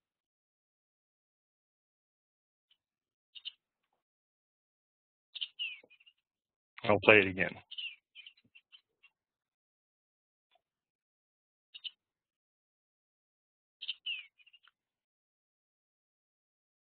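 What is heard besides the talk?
bluebird call played as guessing game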